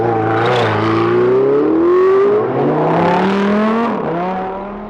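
A supercar engine on a Dubai road, loud and close, its note climbing steadily in a smooth rev before dipping and settling, heard alone with no talk.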